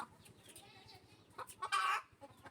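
Hens cluck in a chicken coop after laying eggs. The clucking is close and repeated, rising to a loud, sustained squawking burst near the end.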